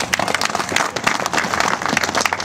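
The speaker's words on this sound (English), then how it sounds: "give them a round of applause" A crowd applauds a congressional candidate's wife and two daughters at a Republican campaign announcement, dense steady clapping filling the whole stretch at close range with no talk over it.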